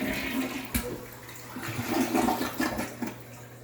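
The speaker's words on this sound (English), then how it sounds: "So I'm going to flush it, but I'm not going to show you the potty." A household toilet flushes nearby: a sharp clunk of the handle, then a rushing, gurgling swirl of water that surges and drains over several seconds.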